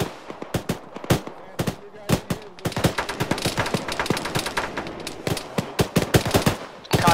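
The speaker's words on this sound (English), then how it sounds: "I think we're taking fire from the west?" Dense gunfire in an Arma military mission crackles in sharp, loud shots, scattered at first and then building into rapid overlapping bursts of automatic fire that barely pause.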